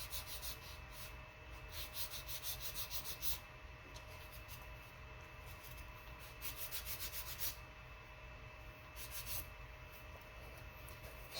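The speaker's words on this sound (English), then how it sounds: "I would now give this just a very light sanding to take the burrs off of it" Light hand sanding removes burrs from a part for an Echo P-30 build, a quiet rhythmic rubbing and scratching in short strokes at close range, soft against faint background hum.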